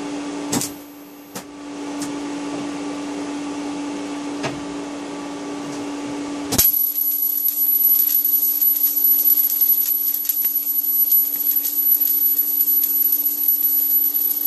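An IGBT half-bridge drives a transformer at 240 volts into an arc between two electrodes. A steady electrical whine with a shrill high tone switches abruptly to a louder, harsh crackling buzz partway through, with no voices.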